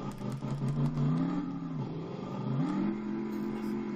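A Crown Vic police car built as a dragster in the RevHead racing game revs and accelerates, its engine note climbing and dipping through gear changes, loud and steady with no talk over it.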